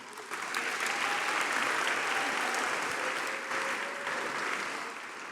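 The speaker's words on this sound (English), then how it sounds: "give them a round of applause as well" Steady, sustained applause from a large crowd at a township Board of Education meeting, continuous clapping throughout with a slight dip near the end.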